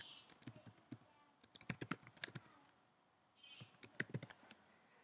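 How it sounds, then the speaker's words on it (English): Computer keyboard typing as email addresses are entered into a Gmail message, two quick bursts of clicking keystrokes separated by a short pause, close but fairly quiet. "then you would type into the other email addresses"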